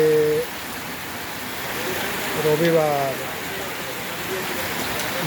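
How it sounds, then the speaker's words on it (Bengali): Heavy rain falls in Jaipur, Rajasthan, as a dense continuous hiss heard from indoors, with a voice speaking briefly over it near the start and middle. "জয়পুর রাজস্থান প্রচণ্ড বৃষ্টি হচ্ছে"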